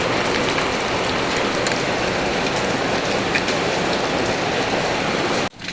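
A downpour of heavy rain hisses loudly and evenly for several seconds, dense and close, then cuts off abruptly near the end.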